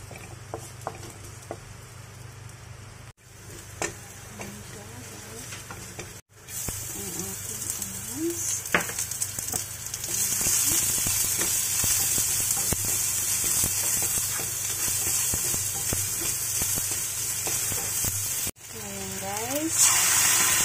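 Steady sizzling and crackling of garlic frying in hot oil, with occasional clatters and a voice speaking over it.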